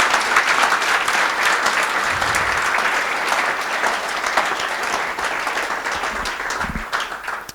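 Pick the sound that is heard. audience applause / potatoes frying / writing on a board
audience applause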